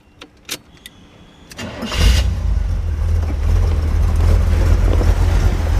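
A 1973 Chevrolet Corvette T-Top with a 350 V8 cranks briefly after a few clicks, then fires up into a loud, deep rumbling idle that holds steady up close.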